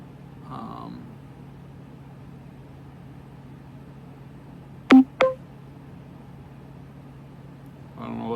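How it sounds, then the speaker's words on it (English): A phone's short notification sound, two quick sharp tones close together, standing out in an otherwise quiet room with faint hum and a brief voice at the start and end. "my phone just made a sound"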